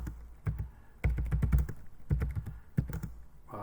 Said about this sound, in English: So let's say we're typing away.